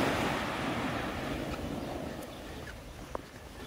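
Ocean waves at Takapuna Beach wash in as a steady broadband rush, with wind buffeting the microphone. The surf gradually fades and no voices are heard.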